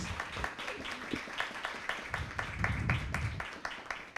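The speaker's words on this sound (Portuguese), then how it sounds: "Uma salva de palmas." A crowd applauds steadily, dense overlapping claps forming a continuous wash of sound that swells slightly toward the end.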